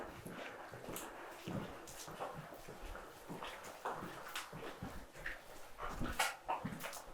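A distressed dog outside whimpers and yelps in a string of faint, high, plaintive cries scattered over an uneven stretch, heard at a distance against a low background hum.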